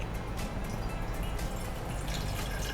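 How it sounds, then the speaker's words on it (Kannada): Water is poured into a cooking pot while making kaju masala, a continuous close splashing gush that lasts the whole short moment with no talk over it. "ನೀರು ಹಾಕಿ"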